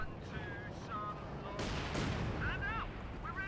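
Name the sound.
incendiary artillery fire in Company of Heroes 2 video game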